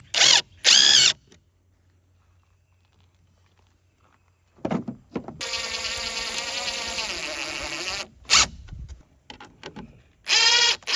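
A power drill drives number 8, 1 1/4 inch wood screws into a wooden bobcat trap box. Short close whirring bursts are separated by quiet gaps, with one longer sustained run where the motor whines as the screw seats.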